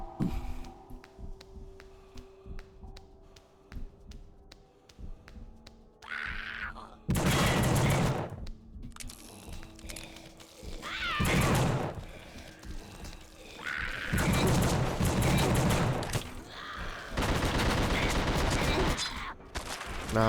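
Bursts of gunfire in the horror video game The Suffering, several loud volleys of rapid shots separated by quieter stretches of ambient game sound.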